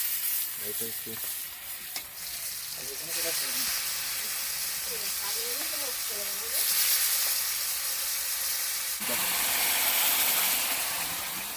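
Koi fish fry in hot oil with a loud, continuous sizzle and hiss that swells as more goes into the pan, while voices talk in the background.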